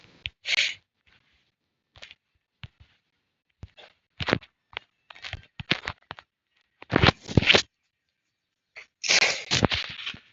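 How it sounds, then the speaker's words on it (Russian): A character in the Roblox game Dead Rails sneezes repeatedly, a series of sharp, loud bursts spread across the stretch with silent gaps between, several coming in quick clusters. "Опять чихает, да что происходит?"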